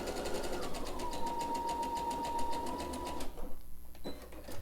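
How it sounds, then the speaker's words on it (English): A sewing machine runs a zigzag stitch to join elastic ends on a fabric face mask, giving a steady, fast mechanical whirr up close that cuts out near the end. "I like to use a zigzag stitch"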